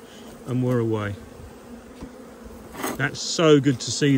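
Honey bees buzz around beehive frames in close, wavering drones that rise and fall in pitch, with a person briefly speaking in between.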